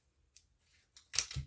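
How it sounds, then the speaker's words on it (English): Scissors snip through resin while cleaning it up, giving two or three short, close cutting sounds after a near-silent start. "And to clean up resin, just take the scissors,"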